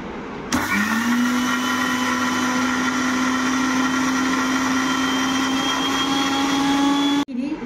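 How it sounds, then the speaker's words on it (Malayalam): A mixer grinder whirs loudly with a steady high-pitched motor whine for about seven seconds while blending cucumber juice, then stops abruptly. "ഞാൻ അടിക്കാൻ പോവുകയാണ് മിക്സിയിൽ"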